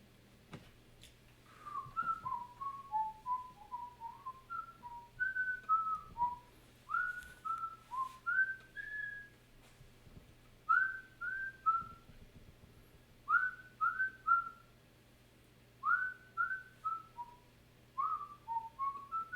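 A person whistles the Andy Griffith theme song, a clear, bright melody of short phrases with brief pauses, heard alone against a quiet room hum.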